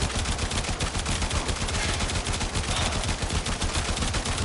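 Dense, continuous automatic gunfire from a Warframe firefight, rapid overlapping shots rattling steadily and loudly throughout with no pauses.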